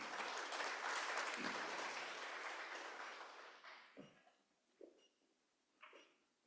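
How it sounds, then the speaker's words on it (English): An audience at an indoor business gathering applauds a presenter, a dense wave of clapping that holds strongly for about three seconds, fades, and trails off into a few scattered late claps. "Round of applause for Ms."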